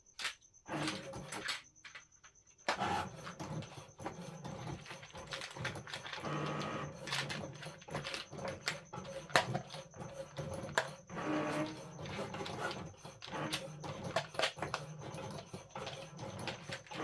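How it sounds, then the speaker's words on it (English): A Cricut Maker 4 cutting cardstock with a fine point blade gives a steady mechanical whir and rapid clicking and sliding for most of the stretch, briefly stopping near the start before running continuously at close range. "So you can see the speed difference between cutting cardstock"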